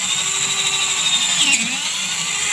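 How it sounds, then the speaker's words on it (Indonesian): A loud power drill whines steadily up close, its pitch dipping briefly as the bit bites into soft PVC pipe, with no talking. "di sini ada satu buah pipa paralon yang akan kita bor juga"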